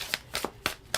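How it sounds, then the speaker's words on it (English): A deck of tarot cards is shuffled in a few quick, crisp riffling bursts, close and distinct, with no talking over them. "I want to make sure that I shuffle these cards."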